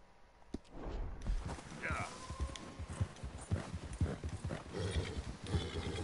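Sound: white horse hooves and whinny in video game Red Dead Redemption 2

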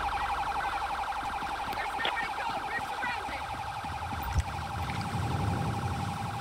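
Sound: police car siren in video game GTA 5

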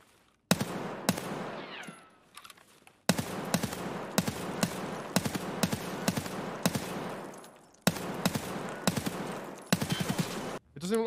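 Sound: gunfire in the video game Escape From Tarkov

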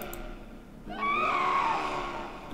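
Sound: ghost screams in the video game Delaware St John

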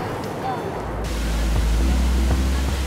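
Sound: Sapa waterfall on the Nimanga River

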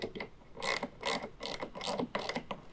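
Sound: ratchet tightening tonneau cover rail clamp on Ford F-150

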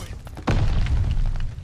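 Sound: grenade explosion in Call of Duty Vanguard video game

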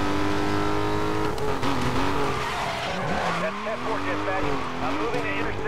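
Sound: car driving in the video game Need for Speed Most Wanted

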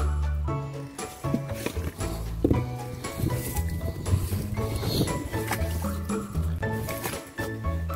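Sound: meltwater flowing through a small dug channel

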